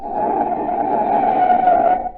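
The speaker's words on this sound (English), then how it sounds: "That's the sound of a car as a desperate motorist has jammed on the brakes in an emergency." A long, shrill tire screech from a car braking hard in an emergency stop, sustained for about two seconds and then cutting off.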